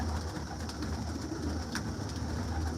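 Pigeons coo steadily on a rooftop where birds are kept for sale, a low murmuring drone that runs unbroken and fairly loud the whole way through, with no voices over it.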